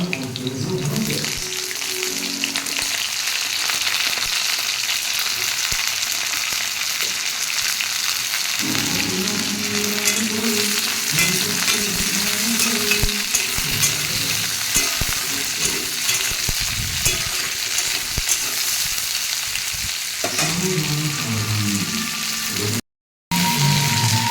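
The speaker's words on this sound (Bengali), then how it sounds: "এবার আমি উচ্ছেগুলো দেবো" Bitter gourd fries in a pan with a loud, steady, close sizzle that runs unbroken, while occasional stirring scrapes rise and fall underneath.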